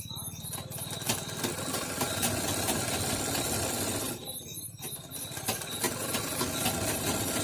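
A sewing machine stitching a katori blouse hem, a fast steady mechanical whirr with rapid needle ticking, running close and continuous, briefly easing off midway before resuming.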